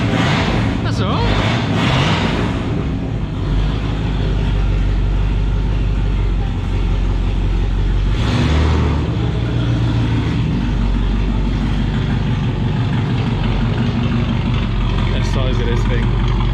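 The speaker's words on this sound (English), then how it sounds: "old carburetors, you've got to give them a bit of gas" An old carburetted car engine at a Sunday car meet runs loud and close with steady low rumble, swelling into a couple of throttle blips near the start and middle, while people talk nearby.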